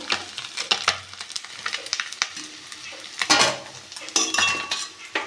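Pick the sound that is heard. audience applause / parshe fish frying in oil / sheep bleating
parshe fish frying in oil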